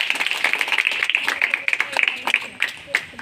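An audience claps hands in quick irregular bursts, sharp close slaps from a small crowd with a voice calling out among them.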